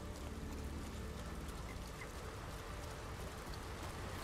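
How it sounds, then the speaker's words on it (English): Steady rain in the video game Ghost of Tsushima hisses and patters evenly throughout, a constant wash of drops falling on surfaces with no voices. "I do appreciate the fact that it's raining realistically instead of the typical white lines on the screen"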